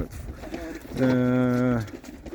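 A racing pigeon gives a single drawn-out, throaty coo, close by, over a background murmur of voices as pigeons are basketed for a race.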